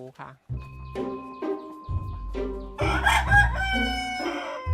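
Fighting roosters in Thailand crow loudly and close by, several long cock-a-doodle calls following one another and overlapping, with someone talking over them.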